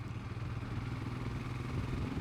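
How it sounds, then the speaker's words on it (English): Engine of a Royal Enfield Himalayan 411 motorcycle, around 25 horsepower, running on the road with a steady, low, throbbing drone heard up close and alone, without speech. "The engine is very characterful."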